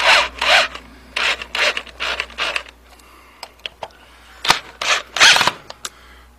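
A screw being driven in beside another screw makes bursts of grinding, creaking rasps in quick clusters with short pauses between, close and fairly loud.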